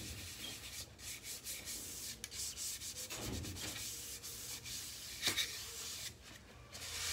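Wax and brown paint are rubbed off a faux wood noodle board made from Dollar Tree foam board, with irregular scratchy sanding strokes, close and fairly quiet, with no talking.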